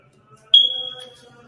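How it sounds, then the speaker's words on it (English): A single short, high-pitched electronic chirp from a smoke alarm, clear and fairly close, fading quickly into quiet. "That's the smoke alarm that needs to be changed."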